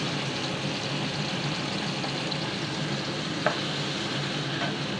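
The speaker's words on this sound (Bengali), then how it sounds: "এখন ভালো করে কষিয়ে নিব" Ginger-garlic paste, turmeric, dried chili and salt frying in a pan while being stirred: a steady, close sizzle with soft scraping, and one brief clink partway through.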